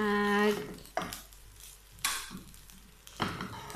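Garlic fried rice sizzling in a pan for a Filipino sinangag, with several short bursts of frying hiss and stirring scrapes about a second apart, close and moderately loud, with no talking.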